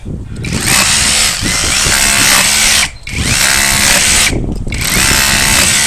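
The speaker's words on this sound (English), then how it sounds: "So the best way to dig sometimes, rotor hammer. Works great in dirt." A rotary hammer digs into dirt, a loud, harsh hammering running nearly continuously, cutting out briefly twice before starting again, close by and with no speech.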